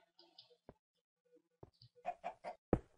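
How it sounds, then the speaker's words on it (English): A chicken in the Minecraft video game clucks in a few short, soft bursts, with sparse quiet clicks and game sounds between them. "Got a chicken up here."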